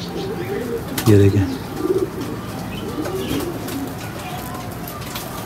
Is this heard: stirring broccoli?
no